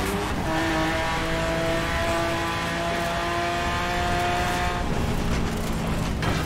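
A heavy seven-ton car in Forza Horizon 4, tuned to around 1500 horsepower, drones with a steady layered engine tone, loud and continuous, shifting pitch slightly near the end.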